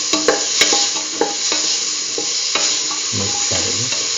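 Potato pieces are stirred into a stew mixture in a pan, with repeated scraping clicks and utensil knocks over a steady background sizzle, ending with a few softer low thuds from the mixing.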